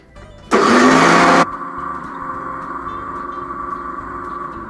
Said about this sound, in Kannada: ಈಗ ಮಿಕ್ಸಿ ಮಾಡ್ತಾಯಿದ್ದೀನಿ ನೋಡಿ